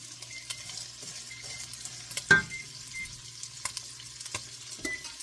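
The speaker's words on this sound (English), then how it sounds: "So we are still sauteing. We are getting a little bit of golden brown going on" Fideo noodles sauté in a pan on the way to golden brown, giving a quiet, steady sizzle with occasional stirring scrapes and one louder clank partway through, and no talking.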